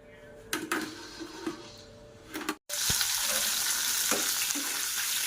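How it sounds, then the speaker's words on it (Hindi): Onions frying in a pan for a home-cooked Chinese-style dinner, with a few clanks of utensils before a steady hiss of sizzling takes over and continues to the end, close by and with no talk. "तो अब ये प्याज फ्राई कर लूँगी हल्की हल्की।"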